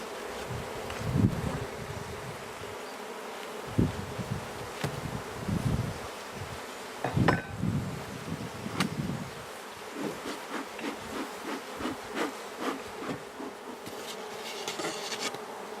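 Honeybees droning steadily around an open hive with an imbalance of too few flying bees, a continuous close buzz with some louder passes near the start and quieter, fluttering pulses later.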